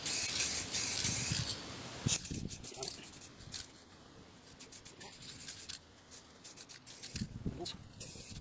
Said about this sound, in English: Normally I wouldn't be spraying this